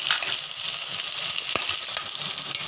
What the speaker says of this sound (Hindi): अब इसमें तुरंत हम एक छोटी अनियन डाल देंगे ऐसे स्लाइस करी हुई, और फिर इसमें एक छोटी शिमला मिर्च स्लाइस करी हुई।